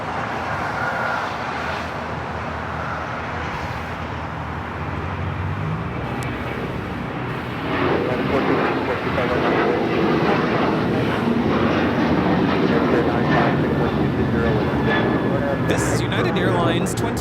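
Jet aircraft at Los Angeles International Airport, a Northern Air Cargo freighter departing for Honolulu, a steady broadband engine roar that swells louder partway through and holds, with faint talk over it.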